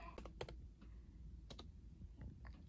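Typing on a computer keyboard, heard as quiet, close key clicks in short irregular bursts with pauses between, faint and alone with no talking.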